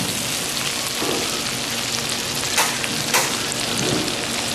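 Lobster sizzles steadily on a Camp Chef stove outdoors, a loud, continuous frying hiss with a couple of faint scrapes and clinks on top.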